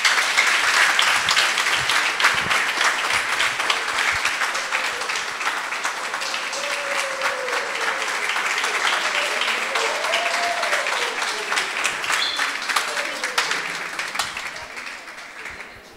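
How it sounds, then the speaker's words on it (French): A French audience applauds a performer about to take the stage, a sustained wash of clapping that tapers off near the end, with a voice speaking faintly underneath. "Je vous demande de l'applaudir, s'il vous plaît."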